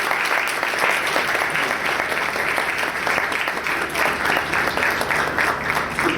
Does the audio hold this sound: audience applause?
yes